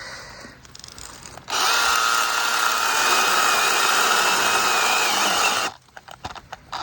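A Makita DUC150 cordless mini chainsaw cuts through a log over 20 cm thick, a loud, steady high-pitched whine under load for about four seconds, with quieter handling clicks before and after.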